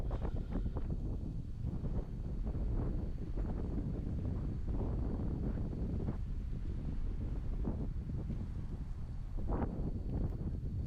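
Gusty wind on an outdoor golf course buffets the microphone in a steady low roar with broad rumbling bursts, continuous throughout with no clear voices.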